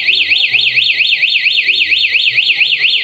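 A motorcycle alarm wails in a loud, continuous rising-and-falling electronic siren with a fast regular warble, close by and dominant, with faint voices underneath.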